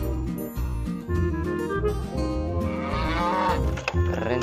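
Dairy cow mooing in a long, drawn-out low call, loud and close, rising and wavering over several seconds alongside a steady musical backing.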